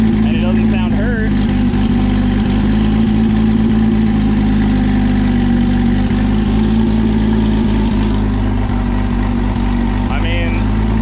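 Car engine idling steadily after an idle screw adjustment, a constant low rumble throughout with no revving, while someone talks over it.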